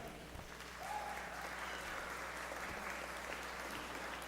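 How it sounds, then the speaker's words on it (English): Faint, steady applause from a wedding crowd, a continuous wash of clapping at a distance. "Now let's keep that round of applause going"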